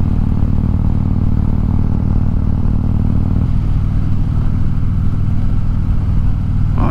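Motorcycle engine idling and running steadily nearby, a continuous low rumble with a slight shift in tone midway, loud and alone with no voices.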